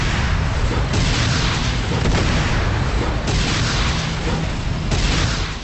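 Loud, continuous booming and rumbling of tank cannon fire and impacts in the game Renegade 02, dense and sustained with little gap between the blasts.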